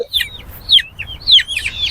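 Chickens for sale at a market stall cluck in short, bright bursts, close and loud, a few calls spaced across the moment with no talking.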